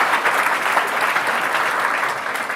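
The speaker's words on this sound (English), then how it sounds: "another round of applause for that" An audience at a corporate tech conference applauds, a dense, steady clatter of many hands clapping close and fairly loud for a few seconds with no voices over it.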